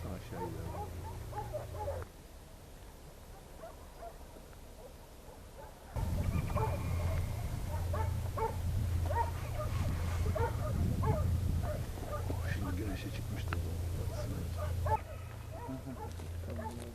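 Hunting dogs bark during a wild boar hunt, heard as repeated distant yips and barks against steady outdoor noise, with low voices now and then.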